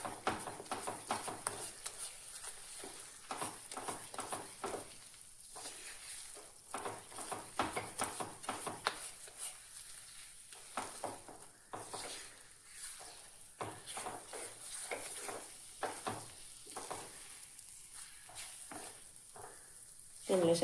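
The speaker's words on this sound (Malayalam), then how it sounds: "കട്ടകളായി കിടക്കുന്ന ഗോതമ്പിനെല്ലാം നമുക്കിത് ഇതേപോലെ അങ്ങ് ഉടച്ചു കൊടുക്കാം" Wheat stirred and mashed into jaggery syrup in a pan, with a soft sizzle and repeated scraping, thudding strokes at an uneven rhythm, fairly close and moderately quiet.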